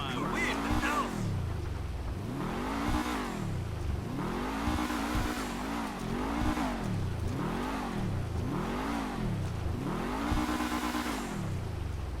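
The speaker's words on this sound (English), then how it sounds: "Now another great thing about this car is the noise." Dewbauchee Seven-70 sports car in GTA Online, its engine revved repeatedly in a series of rising and falling sweeps, deep and grumbly, loud and close with no talk.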